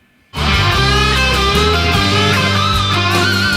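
A distorted electric guitar plays a short phrase of sustained notes from a solo, one sliding away at the end, loud and up close with no talking.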